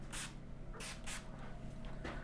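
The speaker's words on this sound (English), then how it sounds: "we're going to put a little bit of sea salt spray on to dry the top" Sea salt spray misted onto hair at a barbershop, a few quick hissing bursts of a pump spray close by, with no talking.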